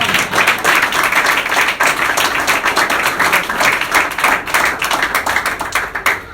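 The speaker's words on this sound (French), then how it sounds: "Acclamez très fort pour le Seigneur" Church congregation applauding loudly, a busy, continuous wall of hand claps that holds strong throughout and thins slightly at the close.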